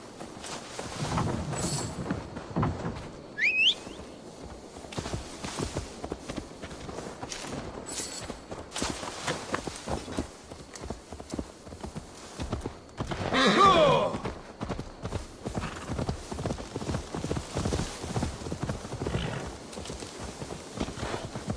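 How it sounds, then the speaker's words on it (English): Horse hooves clop in a steady rhythm throughout, with a brief louder rushing burst partway through and no talking, in the video game Assassin's Creed Valhalla. "Now to deliver Magni his horse."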